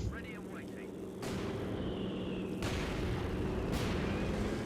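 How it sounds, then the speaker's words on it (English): Mortar fire and battle noise in the video game Company of Heroes 2: a continuous dense rumble broken by three sudden loud booming impacts about a second apart, with a voice briefly heard at the start. "Air recons here, allowing the mortar and plate to fire down."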